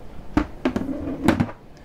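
Hotel room drawers slide and knock open and shut in a few quick wooden clunks and scrapes, close and clear in a quiet room.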